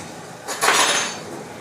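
A tablespoon pulled out from among kitchen utensils, one brief metallic clatter and rattle of cutlery near and fairly loud, no talking.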